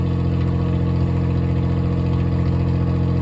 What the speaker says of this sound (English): Normally it revs a little higher than that. I guess it's really cold.